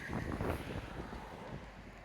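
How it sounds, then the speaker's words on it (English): Strong wind blows outdoors, buffeting the microphone with a steady low rumble and gusty roar that stays loud throughout, with no talking. "it's too windy out here"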